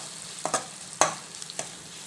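Ginger garlic paste frying in a pan for semiya upma, a soft continuous sizzle broken by several sharp scrapes of a spoon stirring, close by with no talking.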